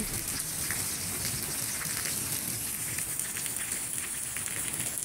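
Steady rain pours down in Pabna, Bangladesh, a dense, even hiss with soft patters on a surface, constant throughout and fairly close.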